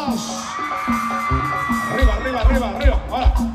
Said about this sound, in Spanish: Grito de las viejas desmadrosas.